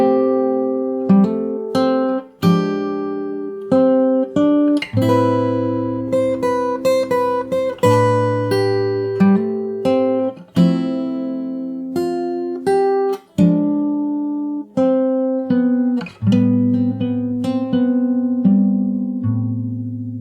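Slow fingerstyle acoustic guitar rendition of a song, with plucked melody notes over bass and chords ringing steadily throughout, close and clear with no voices.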